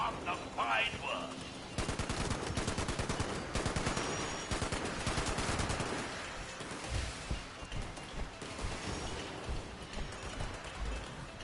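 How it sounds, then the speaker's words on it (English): Bursts of .50 cal machine-gun fire in Fallout 76, rapid rattling volleys that come and go across the clip with dense clustered shots, loud and near, and a voice speaking now and then between the strings of fire. "We're putting rounds down range, rather."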